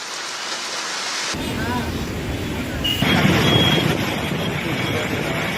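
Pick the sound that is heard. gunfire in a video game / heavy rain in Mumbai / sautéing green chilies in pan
heavy rain in Mumbai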